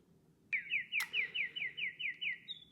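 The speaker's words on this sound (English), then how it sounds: "I hope you hear some birds chirping" A single bird repeats a quick series of about nine bright, evenly spaced chirping notes, fairly close and clear over a quiet low background hum.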